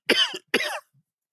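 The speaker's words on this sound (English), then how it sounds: "I don't know what's got me coughing tonight" A man gives two short, harsh coughs close to the microphone, one after the other, with quiet between them.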